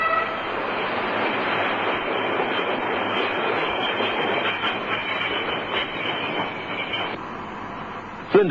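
A narrow-gauge work train rumbles and clatters along steadily at close range, ending with a brief sharp wheel squeal.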